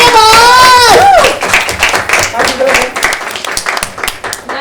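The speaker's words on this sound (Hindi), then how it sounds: "एक बार जोरदार तालियां तो बज के बाद" A voice speaks briefly at the start, then an audience at a televised dance competition finale breaks into loud, close, rapid clapping that carries on to the end.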